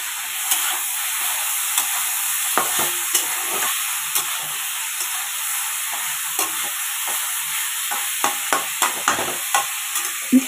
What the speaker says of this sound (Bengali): ঢাকা দিলে অনেক নরম হয়ে যাবে, ওই জন্য আমি ঢাকা দিইনি, খোলা রেখে রেখে ভাজছি।